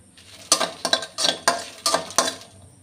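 Garlic and dried chili frying in a pan with repeated stirring, five or six distinct scraping clinks of a utensil against the pan over a low sizzle, close and fairly loud, no talking.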